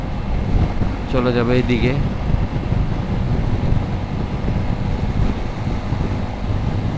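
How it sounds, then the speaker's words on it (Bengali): Strong wind roars steadily into the microphone while riding along an elevated expressway, a constant buffeting rush throughout, with a brief voice speaking near the start. "ঝড় মানে বাতাস ছাড়ছে বেশ ভালো রকমের"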